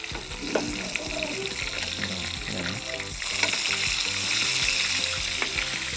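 Wagyu steak sizzling in a pan of pomace olive oil and butter while being basted, a steady close frying hiss with faint clinks and stirring, briefly under a few words of talk.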